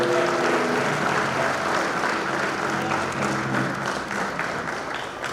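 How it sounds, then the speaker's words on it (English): Sustained applause fills a banquet hall at a women's soccer league awards dinner, steady and fairly loud throughout, with faint music or voices underneath. "Let's give her another round of applause, ladies and gentlemen."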